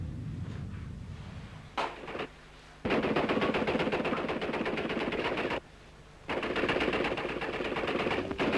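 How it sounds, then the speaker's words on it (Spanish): Anti-aircraft batteries fire during the Falklands War in archival footage, sustained rapid bursts of heavy automatic gunfire with brief pauses between volleys, loud and continuous against a noisy, distorted background. "Contestan nuestras baterías antiaéreas y se ve el refulgir de sus disparos en el aire."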